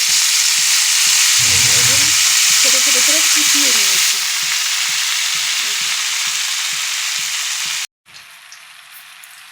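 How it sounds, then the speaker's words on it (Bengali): Chopped leafy greens (shak) fry in a pan with a steady broadband sizzle and light stirring, a voice speaking briefly over it, before the sizzle drops away near the end. "আজকে আর শাকটাকে আমি সিদ্ধ করিনি আজকে একটু ভাজা ভাজা করি"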